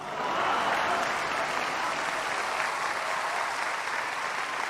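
An audience at a live poetry recitation breaks into applause, and dense, sustained clapping from many hands holds at an even loudness throughout without fading out.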